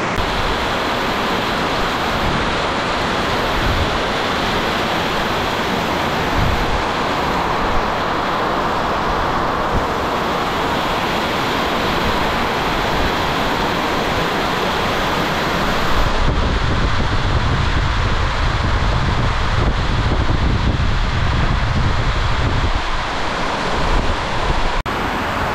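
Loud, dense roar of heavy rain and gusting wind from a sudden storm battering the microphone, constant throughout with a heavier blast near the end.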